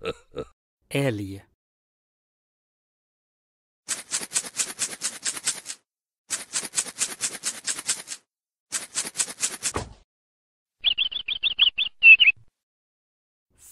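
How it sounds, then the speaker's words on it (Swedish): Cartoon bird calls from a toddler peekaboo app: bursts of rapid chirps in three short runs, then a higher twittering run, clear and close with silence between. "Fågel."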